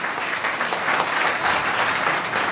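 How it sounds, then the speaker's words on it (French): An audience at a political gathering breaks into steady applause, a dense, even wash of clapping that holds throughout without voices standing out. "Je vous demande d'applaudir Alilou Diallo."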